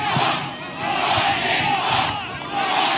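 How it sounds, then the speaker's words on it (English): A large crowd at a political rally cheers and shouts in a sustained roar, with swelling waves of voices, loud and continuous with no clear speech above it. "What a crowd."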